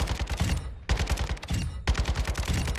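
Rapid rifle fire from a long-range loadout at the firing range in Warzone 2, loud repeated shots in quick bursts with two brief pauses, no talking.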